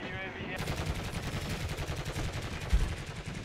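Rapid continuous LMG fire in a shooter video game, a dense stream of closely spaced shots with one heavier thump near the end, loud and close.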